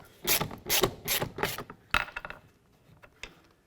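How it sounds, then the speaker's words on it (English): A 3/8-drive ratchet with a T30 socket loosening a door bolt on a 2008–2012 Ford Escape, four quick bursts of close clicking followed by a few softer, scattered clicks, no voices. "we're going to remove that with a T30 socket and a 3/8 drive ratchet"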